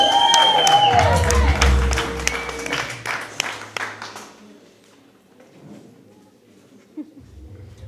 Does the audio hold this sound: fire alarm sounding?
no